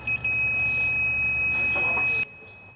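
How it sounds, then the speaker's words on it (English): A voltmeter gives a steady continuity beep, a clear high electronic tone held for about two seconds before cutting off, close and alone. "we should get a beep confirming that we have good continuity"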